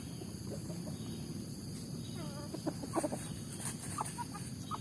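Free-range village chickens cluck and a rooster calls intermittently on a traditional farm against a steady outdoor hum of insects, the birds at a moderate distance.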